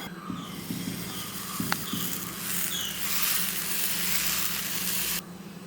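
A dosa cooks on an oiled pan with a steady, close sizzle and frying hiss that holds for several seconds, broken by a few brief clicks near the start before cutting off abruptly.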